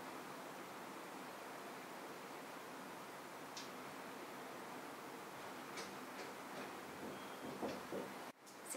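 A shower runs in another room, a soft, steady, muffled hiss of falling water that stays faint and even for most of the stretch before cutting off near the end.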